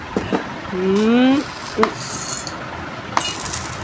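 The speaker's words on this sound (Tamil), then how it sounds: "ஒரு பருப்பு கூட கிளாஸ்ல விழ மாட்டேங்கிறேன்" During a party game, lentils drop into and around a glass, giving a few sparse light clinks and taps spread apart, with a brief voice-like sliding tone in between.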